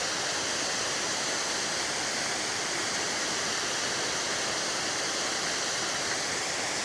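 A big waterfall on a Georgia creek gives a steady, dense roar of falling water, loud and unbroken for the whole stretch, with no voices.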